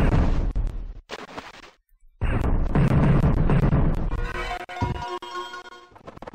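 Loud, booming explosions from the DOS game Alien Rampage, heavy blasts in quick succession with a brief silent gap, followed by crashing debris and ringing tones as the bursts trail off.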